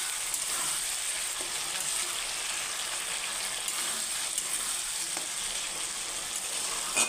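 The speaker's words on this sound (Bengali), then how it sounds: "এখন আমি এটার উপর যে তেল উঠছে, নেড়ে তোমাদেরকে দেখাচ্ছি।" Chicken curry with potatoes sizzling steadily in oil in a pan while being stirred, a continuous close hiss with faint scraping, no talk.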